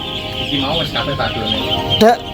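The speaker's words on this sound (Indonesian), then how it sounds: "Nah ini bebek yang baru kita turunkan." Ducks just released from a transport box on a farm quack and chatter in a close, busy flock, with one louder call near the end and someone speaking over them.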